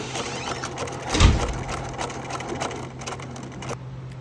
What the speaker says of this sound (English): you're gonna go ahead and sew directly over that piece of fishing line, trying to keep it in the center as much as possible